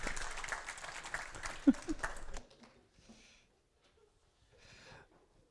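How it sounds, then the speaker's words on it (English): Audience applause at a network operators' conference session, dense clapping for a couple of seconds that stops abruptly, followed by near silence with a few faint murmurs and soft breaths. "give him a round of applause."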